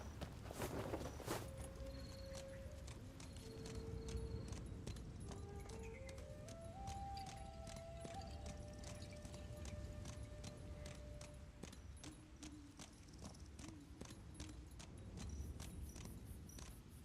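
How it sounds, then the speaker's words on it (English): Horse hooves clip-clop steadily in Where Winds Meet, a run of evenly spaced, close thuds that carries on beneath background game music with faint jingling tones. "So I'll call my horse over."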